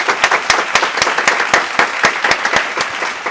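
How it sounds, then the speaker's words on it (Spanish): Applause from a small audience greets a guest on a Christian podcast, with sharp, distinct hand claps in an uneven rapid rhythm, fairly close and loud, with no talking over it. "Un aplauso"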